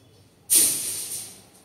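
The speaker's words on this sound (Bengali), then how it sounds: "এবার গরম জল দিয়ে দিলাম" Hot water poured onto hot masala with tomato paste in a pan: a sudden loud hiss bursts after a quiet start, then slowly fades over about a second.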